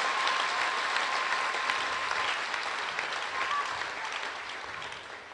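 A congregation at a Divine Mercy pilgrimage Mass in Popenguine applauds steadily and loudly, a dense continuous clapping that holds throughout and tapers slightly at the end.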